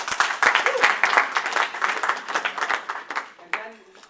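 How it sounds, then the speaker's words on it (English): Audience applause at a political fundraising event introduction, dense clapping that tapers off over about four seconds, with talking mixed in near the end. "let's give a round of applause"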